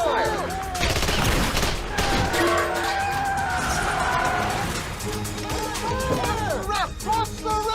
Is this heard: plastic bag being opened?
no